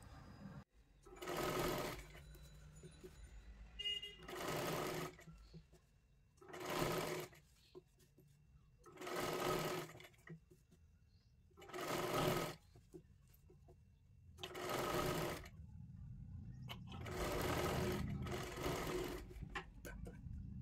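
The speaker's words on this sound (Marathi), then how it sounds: "अशा पद्धतीने हे शिलाई मारून घ्यायची आहे पूर्ण" A sewing machine stitches a folded strip onto a katori blouse in eight short bursts of rapid mechanical whirring, separated by quiet pauses, with faint birds and farm animals far in the background.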